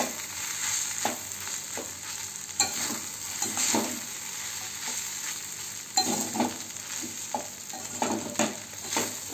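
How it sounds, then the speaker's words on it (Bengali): Masala Maggi noodles sizzle and fry in a pan as a utensil stirs and scrapes them, with repeated clinks and scrapes over a steady close hiss. "এখন মশলা দেওয়া হয়ে গেছে, এখন একে আমি নাড়াচাড়া করবো।"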